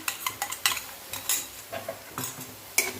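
Green chili paste is stirred into frying onions in a pan, with a quiet bed of sizzle under repeated clinks and scrapes of a utensil against the metal, close and irregular.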